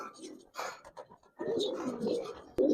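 Giribaz pigeons in a loft give several soft throaty coos in short bursts, close by, with someone speaking over them at times.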